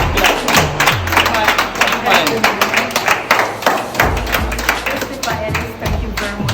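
Rhythmic hand clapping at a fundraising gathering, steady loud claps repeating throughout with voices and crowd sound mixed in.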